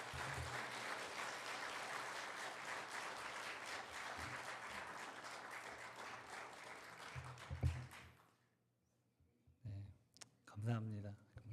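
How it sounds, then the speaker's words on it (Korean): A church congregation gives dense, steady applause at a women's mission dedication service, continuous for about eight seconds before stopping, followed by someone speaking into a microphone. "우리 큰 박수로 목사님 모시도록 하겠습니다"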